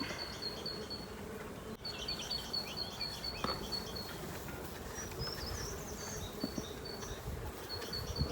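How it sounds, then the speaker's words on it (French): Honeybees buzz continuously at a feeder in a dense, faint hum, with higher whining tones from individual bees drifting in and out over a quiet outdoor background. "Les abeilles d'un nourrisseur."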